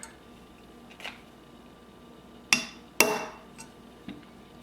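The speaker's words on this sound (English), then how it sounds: "I'm going to give it maybe one more small tap" Small hammer taps while installing an AR-15 trigger guard, two crisp metallic knocks close together midway with lighter clicks around them, otherwise quiet.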